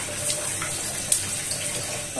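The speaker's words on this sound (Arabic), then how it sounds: "احط نقطه ميه، ده اسرع اختبار عشان نعرف ان الزيت سخن ولا لا" A drop of water hits hot frying oil heated for crispy fish fillet, giving a steady close sizzling hiss with one sharp crackling pop partway through.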